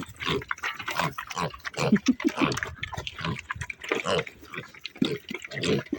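Pigs and a young boar snuffling and grunting close by around a shared bowl, with wet slurping and lapping, busy irregular feeding noises throughout.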